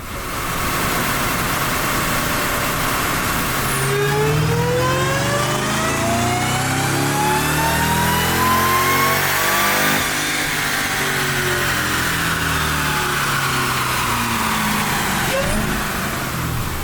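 A Jeep Trackhawk's engine revs hard on a dyno during a baseline power run, climbing steadily in pitch to a loud peak, then falling off before a second brief rise, all without talk.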